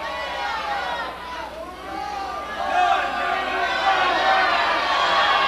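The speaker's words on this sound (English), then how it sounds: "Now the crowd really getting on Madrill." A wrestling arena crowd jeers and shouts at the wrestler Madrill, a broad, sustained roar of many voices with a commentator talking over it throughout.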